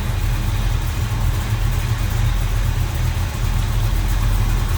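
A 1974 Plymouth Road Runner with a 440 V8, headers and HEI ignition idles steadily up close, a loud, even low rumble with no voices.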